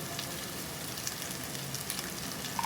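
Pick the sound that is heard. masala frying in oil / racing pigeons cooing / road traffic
masala frying in oil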